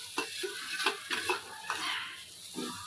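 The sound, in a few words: coconut being stirred in a pan on the gas stove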